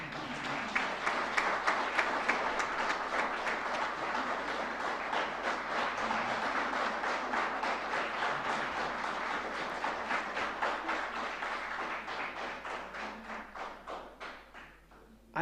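Audience clapping fills a conference hall at an international conference, dense steady applause sustained for most of the stretch before thinning out and tapering near the end.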